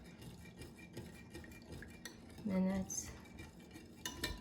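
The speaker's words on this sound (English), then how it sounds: "I'm gonna put 1 cup in my starter, and we'll whisk it." A whisk scrapes and clinks inside a bowl as a cup of cooled milk is mixed into the yogurt starter for Greek yogurt. The rubbing is steady and close, with a slightly louder stroke partway through.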